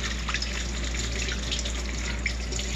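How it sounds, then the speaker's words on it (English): Tap water runs steadily into a sink while soap is rinsed off hands, a continuous close splashing hiss with no speech. "I'll give these a nice rinse."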